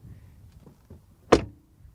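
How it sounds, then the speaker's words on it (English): A Mercedes A-Class car door swings shut with a single solid, resounding thump, heard close and alone after a few quiet handling sounds. "But the door shut sound is just as solid and resounding."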